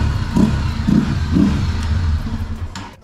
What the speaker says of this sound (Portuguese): O pessoal gosta da moto com esse barulho.